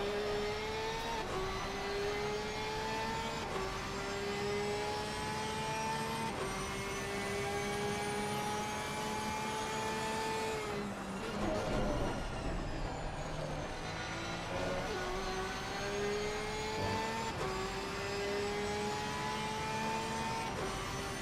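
Porsche GT3 race cars battling closely in a sim racing game at Donington, engines wailing with rising and falling revs through repeated upshifts, a steady layered drone with a brief dip under braking.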